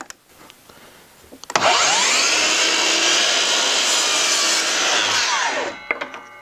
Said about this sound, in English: So first I'm gonna cut a 45 on this one.